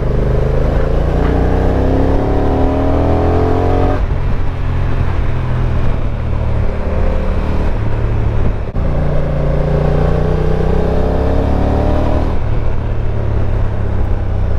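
A Honda NT1100 motorcycle rides a very bumpy, damp road, its engine droning steadily close up through repeated gear changes, with rising revs and brief dips between shifts and wind rush underneath.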